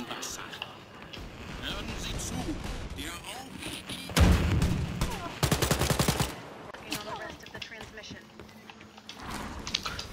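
Gunfire from a machine pistol in the shooter game Wolfenstein: Youngblood, with loud bursts of rapid automatic shots and booming impacts over a busy game soundscape, alongside someone talking.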